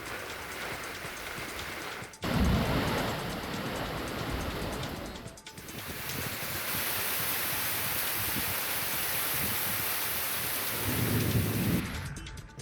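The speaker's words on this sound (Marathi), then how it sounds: "मुंबई उपनगरात गडगडाटासह मुसळधार पाऊस पडला" Heavy pre-monsoon rain pours steadily in suburban Mumbai while loud thunder cracks and rumbles, with sharp claps breaking the continuous downpour.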